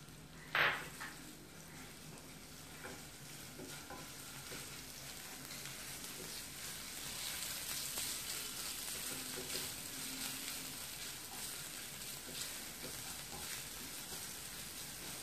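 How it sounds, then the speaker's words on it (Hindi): Garlic and ginger sizzle steadily in about a tablespoon of hot oil in a pan, a continuous close frying hiss with a sharp burst near the start as they hit the oil, no voices. "इसमें मैं अपना ये लहसुन अदरक डाल के इसको थोड़ा सा सौटे करूँगी।"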